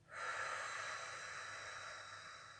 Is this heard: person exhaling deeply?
yes